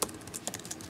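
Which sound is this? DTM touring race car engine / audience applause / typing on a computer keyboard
typing on a computer keyboard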